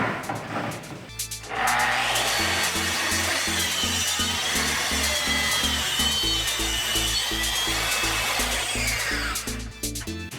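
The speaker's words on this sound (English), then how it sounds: "Great thing about track saws, you just line up the two marks with the edge of the track saw and you just cut." A track saw cuts through wood with a loud, sustained whine. The motor spins up after a brief quiet start, holds a steady high-pitched cutting roar for about eight seconds, then winds down.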